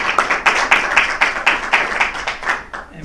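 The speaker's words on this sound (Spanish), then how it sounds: "Démosle un aplauso al profesor López." Audience applause for Professor López at a university governance colloquium, sparse claps with distinct rhythmic peaks from a modest crowd, steady for about three seconds and then thinning out.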